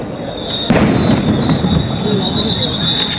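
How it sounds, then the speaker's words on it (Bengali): Sound grenades burst near protesters in a tense city street, with a sharp loud bang rising over steady crowd noise, a constant high whine and distant voices. "সাউন্ড গ্রেনেড নিক্ষেপ করা হচ্ছে, তারপরেও তারা আসলে সেখান থেকে সরে যাচ্ছে না"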